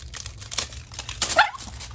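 A dog lets out a single short, sharp bark close by, amid light rustling and handling noise.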